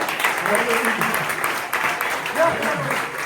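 Applause from a conference keynote audience sounds under lively talk and cheering voices, a moderate wash of clapping that holds steady throughout.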